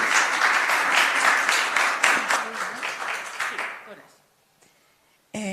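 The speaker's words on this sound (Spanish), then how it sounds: "les pido un fuerte aplauso" An audience at a music-mediation conference gives a strong round of applause, dense clapping mixed with voices that gradually fades out into quiet before a sudden burst of sound at the end.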